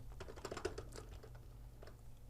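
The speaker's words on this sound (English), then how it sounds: "we're gonna type many things like" Quick, quiet keystrokes on a computer keyboard, a short burst of light clicks close by, with no one speaking.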